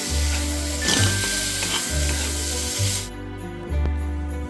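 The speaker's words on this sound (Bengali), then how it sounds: "একটা বড় সাইজে টমেটো দিয়ে দিলাম দেওয়ার পর ভালোভাবে এটা ফ্রাই করে নিতে হবে" A large tomato frying in a pan gives a loud, close sizzle broken by rhythmic scraping strokes of a spoon stirring it, with no speech.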